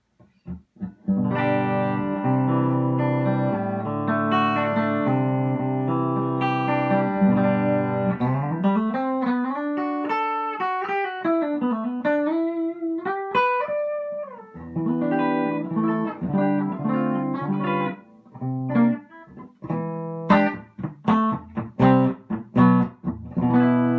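An electric guitar fitted with Mad Hatter Super Shredder pickups plays clean tones straight into a Princeton amp: sustained chords, then bending single-note melodic lines, ending in sharp, clipped staccato strums, full and clear, with no talking.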